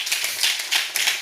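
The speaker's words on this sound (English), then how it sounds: "A big applause for Catherine." Applause from a conference audience for a speaker, dense, steady clapping that ripples in small waves over a little more than a second.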